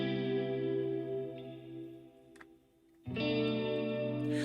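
Electric guitar chords washed in Valhalla reverb and delay with OTT compression, a sustained layered chord ringing steadily, dipping briefly before a fresh chord swells back in loud near the end.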